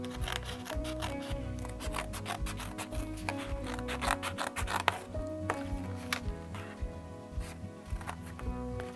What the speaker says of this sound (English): So we're going to cut that out.